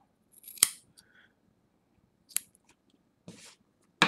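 Small scissors trim cotton wick for a CoilArt Mage GTA vape atomizer, giving four sharp, close snips spaced unevenly across a quiet background.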